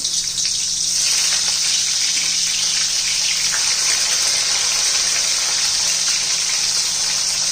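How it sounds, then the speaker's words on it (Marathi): Stuffed bitter gourds sizzle and crackle loudly in hot oil, a steady, dense frying hiss that continues without pause. "तेल पण गरम झालेलं आहे. तर त्याच्यामध्ये हे कारली अशी ठेवून घ्यायची."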